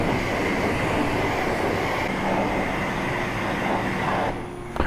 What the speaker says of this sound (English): High pressure rinse